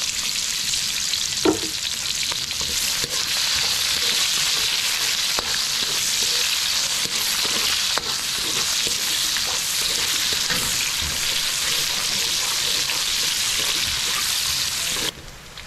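Onion and garlic sizzle steadily in hot oil in a pan, a loud continuous crackling hiss with occasional stirring clinks, running unbroken before it briefly quiets at the end.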